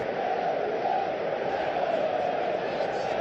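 Simulated stadium crowd in the PES 2021 football video game, a steady broad murmur and roar of supporters sustained throughout at moderate level.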